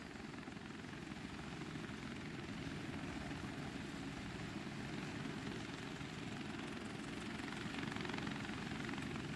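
A helicopter in the military shooter game Wardogs produces a steady, dense rotor and engine roar that stays constant and fairly faint throughout, with no talking.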